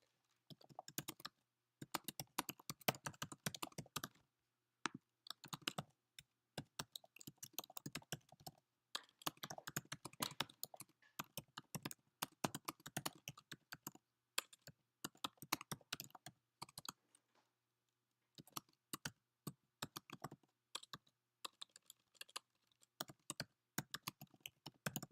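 Steady typing on a computer keyboard while writing a reply, dense clicking key strikes in bursts with short pauses, quiet and close.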